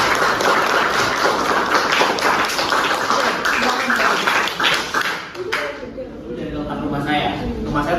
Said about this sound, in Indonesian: Oke, kasih aplaus dulu.